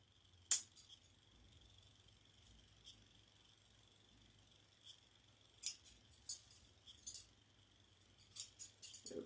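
Scissors trimming something, heard as a few faint, sharp snips spaced irregularly over a quiet background, with no talking.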